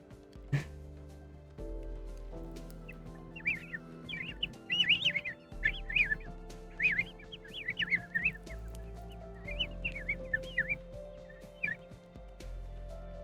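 A person whistles imitations of birds, producing quick chirping, warbling trills in repeated bursts over a low background hum.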